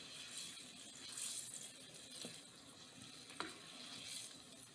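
A glaze mixture is stirred in a pan, giving a soft, steady sizzling hiss with faint scraping and a couple of light clinks, low and close.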